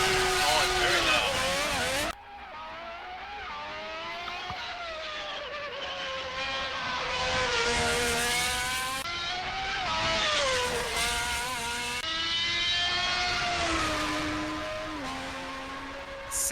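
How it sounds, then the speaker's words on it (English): A Tatuus Formula Master Regional race car screams by at speed at a festival hillclimb, its high-revving engine loud and rising and falling through gearshifts, with a few abrupt drops in pitch between upshifts. "Sounds very reminiscent of a Honda V12."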